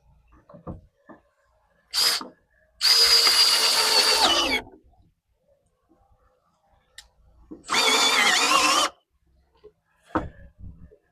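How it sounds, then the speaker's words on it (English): A power drill drives a screw into a fence gate being repaired for sag, two loud bursts of whirring of about two and one seconds, separated by quiet clicks and handling noises. "now we'll put that screw in and that should keep that tight."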